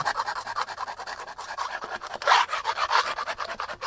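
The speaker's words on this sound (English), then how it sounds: "using a trowel, scrape around all the edges, any high trowel marks" A trowel scraping around the edges of a hardened silicone base coat in rapid, rhythmic rasping strokes, close and fairly loud, with no speech.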